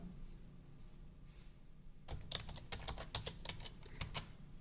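Keys clatter on a computer keyboard during work in MS Excel, a quiet pause giving way to a brisk run of close, sharp clicks in an irregular rhythm.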